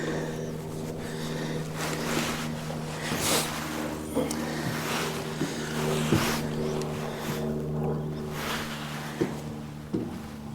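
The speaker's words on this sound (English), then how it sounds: "I wish that wind would quit, but it ain't going to" Wind blows across open water outdoors during a catfish fishing trip. A steady rushing noise carries a low droning hum, with occasional bumps and brief talk underneath.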